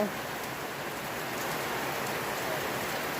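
Steady rain falling on a rice field during harvest, a dense even hiss of drops that holds at the same level throughout with no other sounds.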